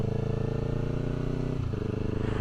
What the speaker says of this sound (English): However, I'm doing rev match downshift.